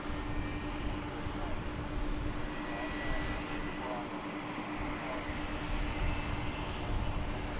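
An aircraft at DFW Airport at night, a continuous distant engine roar with a steady droning hum, faint and unbroken throughout.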